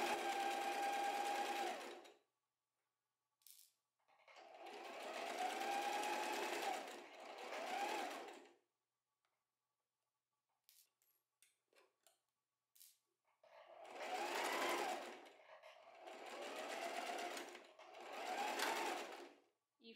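Sewing machine stitching a fabric tube for a scrunchie, running in several close, steady whirring bursts of a few seconds each, separated by quiet pauses with small handling clicks.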